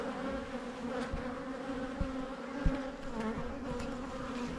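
Honey bees hum around an open hive during an inspection, a continuous layered drone close by with a few faint knocks and taps from handling, and no speech.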